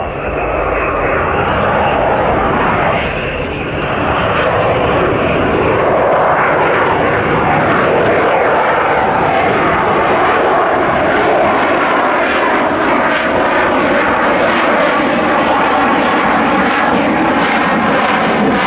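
A jet aircraft flying at a high angle of attack, a loud, sustained roaring engine rumble that stays steady and close, with someone talking over it.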